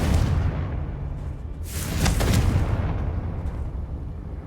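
A heavy magical blast booms out from the Confringo fire spell in Hogwarts Legacy, a loud broadband burst swelling midway and rumbling on as a low roar before fading.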